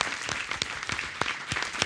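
An audience at an opening conference on web series claps together, a dense burst of applause with sharp individual claps standing out, close and steady throughout, no voices.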